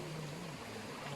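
A river flows toward Manabtak Falls in Antipolo, giving a steady, even rushing wash of moving water with no breaks, moderately close and free of voices.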